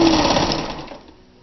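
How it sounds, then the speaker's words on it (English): A Kenmore 158.13033 sewing machine running a fast straight stitch, a loud, close, steady motor whir that slows and fades out within about a second. "Let's just sew some straight stitch here."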